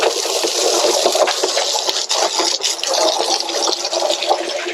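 Steady, fairly loud hiss of water spraying to rinse brightener off a surface, continuous rushing with no breaks and no voices.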